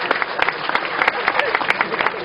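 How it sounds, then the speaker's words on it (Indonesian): Audience clapping at a Javanese gathering, a dense stretch of hand claps with sharp individual slaps standing out, moderately loud and close, with faint voices mixed in. "Oke, tepuk tangan semua teman-teman sekalian."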